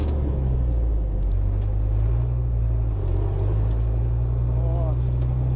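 A GAZ-39371 Vodnik armored car's engine rumbles loud and steady from inside the cab, with a brief dip in pitch as the driver shifts through gears, while someone talks over it.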